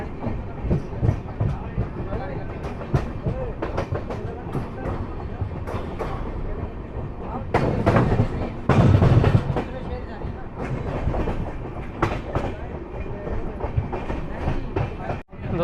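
A Maharashtra Sampark Kranti train slowly passes through Mathura Junction with continuous rumbling and clickety-clack from the railcars, and a louder rush midway while a person talks over it.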